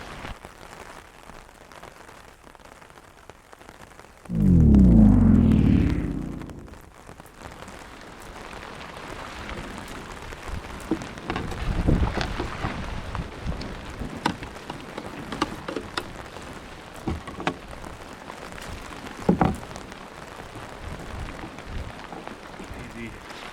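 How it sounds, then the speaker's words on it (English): Rain falls on a sandy esker point in the northern Manitoba wilderness, a steady close patter of drops with a loud rustling burst early on and sporadic sharper taps throughout. "She's a-raining."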